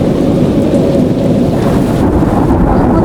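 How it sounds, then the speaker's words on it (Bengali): Cartoon kalbaishakhi (nor'wester) thunderstorm with steady loud rolling thunder and heavy rain, a dense low rumble sustained throughout with no voices. "বজ্রপাত, মেঘের গর্জন যেন আকাশ পাতাল এক হয়ে গেল।"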